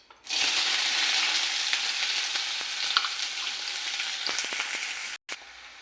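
Sliced onion dropped into hot oil with cumin seeds for homemade Maggi, bursting into a loud, steady sizzle that keeps going with faint ticks of stirring, then briefly cuts out and returns softer.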